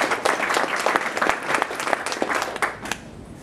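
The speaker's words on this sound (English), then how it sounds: "So I think another big round of applause for the sponsors." Audience applause for sponsors at a GovHack 2013 event, a crowd of hands clapping at moderate volume with distinct individual claps, thinning out and fading toward the end.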